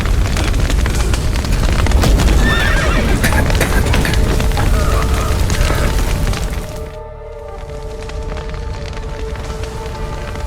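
Horses whinny and neigh amid loud rumbling, clattering hooves and crashing noise as roots collapse in The Witcher 3, then the din drops to a steadier background hum.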